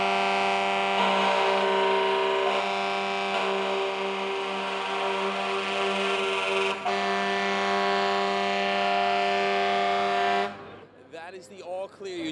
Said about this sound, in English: what we're hearing now are now horns telling all firefighters to get out if they were inside